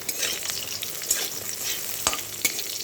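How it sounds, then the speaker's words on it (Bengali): Pointed gourd (potol) frying in a pan in a home kitchen, a steady close sizzle with occasional stirring scrapes and clicks, no voices. "আর পটল ভাজা হচ্ছে।"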